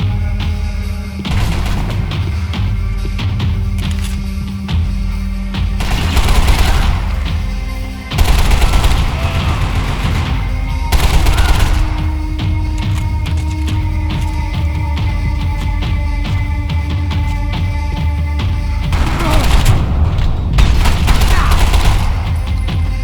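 Sustained gunfire in the video game Max Payne 3, with dense bursts of shots and automatic fire running nearly throughout at high volume and several louder volleys standing out.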